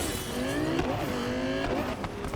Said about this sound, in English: The sound of this car is amazing.